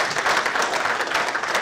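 Applause from a conference audience, a dense patter of clapping that holds steady and close through the whole short stretch.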